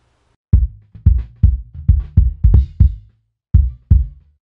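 Bass drum with boosted low end and a 40 Hz high-pass filter, struck in a loose rhythmic pattern of about ten punchy, boomy hits with short decays, close and loud, alone.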